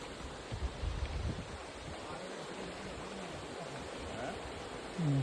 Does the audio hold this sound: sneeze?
no